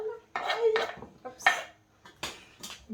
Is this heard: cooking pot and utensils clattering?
yes